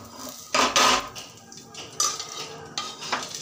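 Roasted rice for caramel kheer scraped from a kadhai onto a plate, with a few metallic spoon-on-pan clinks and scrapes in short bursts, close and fairly quiet, no speech.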